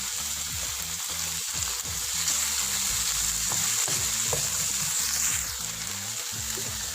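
Chopped tomato and Kashmiri chili powder frying in a pan for chicken Kashmiri, a loud continuous hiss and sizzle up close with rhythmic stirring strokes throughout.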